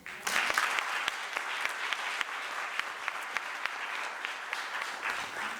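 Sustained audience applause at a university College of Humanities women leaders' panel, a steady wash of many hands clapping at moderate volume with no talk over it.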